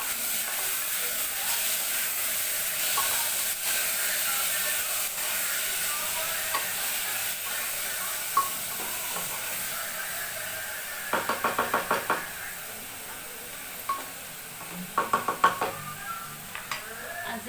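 Food frying in a pan on a gas stove while a utensil stirs it, a steady sizzle with clusters of sharp scraping knocks from the spatula against the pan, close and clear with no talking.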